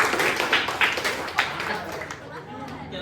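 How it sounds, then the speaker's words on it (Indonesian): Applause from a small group, a burst of scattered clapping mixed with murmuring voices, fading slightly toward the end. "Sebelumnya tepuk tangan dulu buat kelompok 3."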